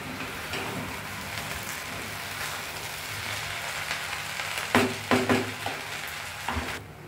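Paneer pieces already fried in ghee drop into a hot pan of ghee and cumin, giving a constant sizzle with louder bursts near the end as they hit the fat, with no talking.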